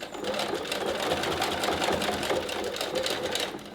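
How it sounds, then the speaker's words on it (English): A sewing machine runs a back-and-forth securing stitch on a fabric face mask, a continuous fast mechanical whirring hum held steady for a few seconds, close and without speech. "Back and forth stitch to secure it."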